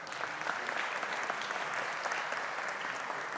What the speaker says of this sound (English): Can we give our winners a warm round of applause, please?